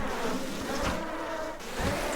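Wasps in the online role-playing game Ashen Empires drone in a continuous, fairly soft buzzing hum that swells slightly in places, with no talk over it.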